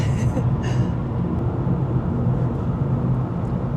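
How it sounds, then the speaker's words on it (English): A continuous heavy, low rumble of a freight train rolls past nearby near Field and Rogers Pass, steady and loud throughout with rattling undertones. "Freight train, run so fast."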